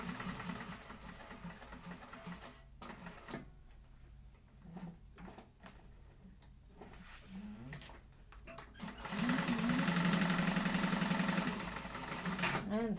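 A sewing machine bastes the sides of a vinyl bowler bag, stitching in short stop-start bursts with quiet gaps and then running in a steady louder stretch near the end. A voice talks over the early part.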